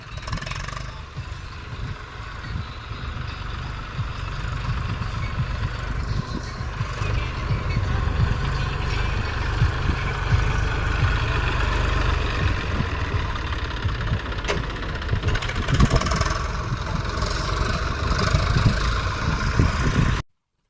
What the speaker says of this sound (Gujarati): જો ટ્રેક્ટર આવી ગયું છે